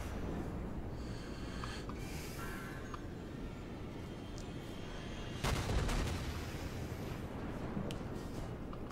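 Distant naval gunfire booms in a World of Warships battle, rolling over a constant rumbling engine-and-sea bed, with a louder burst of shots near the middle before the steady rumble resumes.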